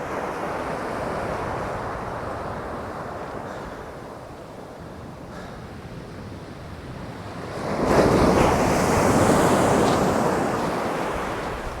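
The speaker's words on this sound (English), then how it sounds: "Now, there is a lot of wind noise, so, you know, bites are a little harder to discern between the wind and the waves." Strong wind gusts across a beach on the English east coast while waves break and wash ashore, a dense continuous rush that swells louder partway through, with no voices.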